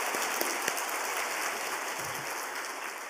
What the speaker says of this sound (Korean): 다시 한번 우리 격려와 감사의 박수 하겠습니다